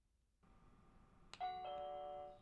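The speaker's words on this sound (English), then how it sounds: "you can then also press the doorbell button to make sure everything is working normally" A doorbell unit on an OhmKat power supply rings a bright electronic chime right after its button is pressed, ringing out alone and fairly clearly in a quiet room, the tones sustaining briefly before fading.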